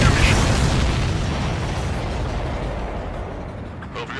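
Explosions in the video game Ace Combat 7: Skies Unknown, a loud deep boom at the start decaying into a long rumbling roar, with a voice speaking over it.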